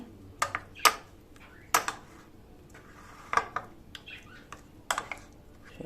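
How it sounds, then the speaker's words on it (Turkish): A spoon stirs tomatoes and salted fish in a cooking pot, giving a handful of sharp, close metallic clinks and scrapes at irregular intervals over a quiet kitchen background. "Şimdi bir kere de karıştıracağım bunu."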